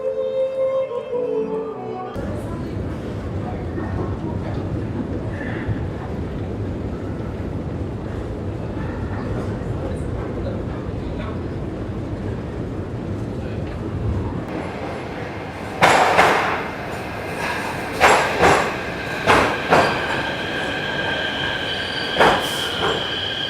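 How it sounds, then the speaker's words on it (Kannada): A train rumbles steadily past outside Kyiv's central railway station, followed by metallic clanks and screeching wheel squeals near the end, loud and close. "ಸದ್ಯ ನಾನೀಗ ಕೀವ್ನ ಸೆಂಟ್ರಲ್ ರೈಲ್ವೆ ಸ್ಟೇಷನ್ ಮುಂಭಾಗದಲ್ಲಿದ್ದೀನಿ"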